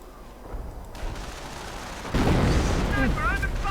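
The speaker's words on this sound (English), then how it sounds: "And there we go, artillery going off." Video game artillery fire erupts as a heavy, close boom that swells and rumbles on, following quieter earlier rumbling, with a voice talking over the later part.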